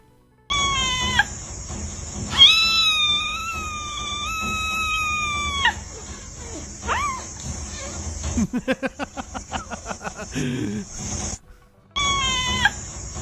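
A cat screams loudly and close, in long rising and falling yowls broken by rapid pulsing cries and short gaps.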